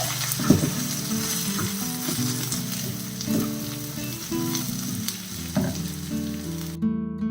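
Eggplant sautés in hot oil in a pan, giving a continuous close sizzle and crackle with occasional stirring knocks and scrapes, with no voices.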